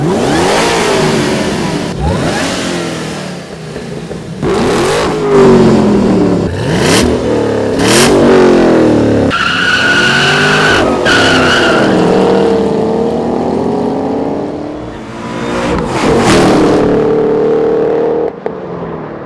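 Loud engines of a 2013 Shelby GT500 and a 2012 Camaro ZL1 revving hard in repeated bursts, rising and falling pitch with roaring exhaust, close by and without any talking.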